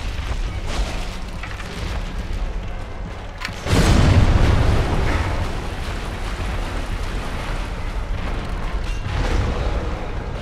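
A deep booming blast from an enemy's explosive attack in Dark Souls Remastered bursts in around four seconds, sitting over a steady rumbling game soundscape that continues afterward without talk.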